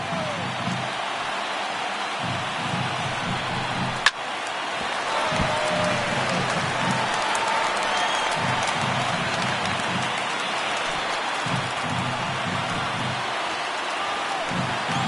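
A stadium crowd of over 31,000 in MLB The Show 19, Rangers at Athletics, rising to its feet with a broad, loud, sustained roar throughout, a single sharp crack near the start.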